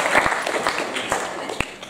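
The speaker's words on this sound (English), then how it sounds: "That's a round of applause right there." Brief applause at a children's book author talk and Q&A, scattered claps over a murmuring room with chatter around it, short and fading.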